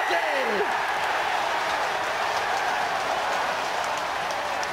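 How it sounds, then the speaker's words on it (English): Rugby crowd at the 2010 Premiership semi-final between Northampton Saints and Saracens screaming after a Northampton try; a dense, sustained roar of cheering and shouting fills the whole stretch at a steady loud level. "The crowd scream, "Heath Majority!""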